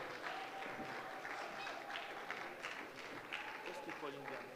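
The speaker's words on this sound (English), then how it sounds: "please, let's keep clapping" Audience applause at a school of government graduation ceremony, a continuous soft rattle of many hands heard at a distance, with a voice talking over it.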